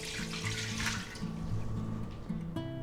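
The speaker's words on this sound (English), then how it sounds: "we're going to add a cup and a half of water here" A cup and a half of water is poured into a pan for baby back ribs, a steady splashing pour under looping background music.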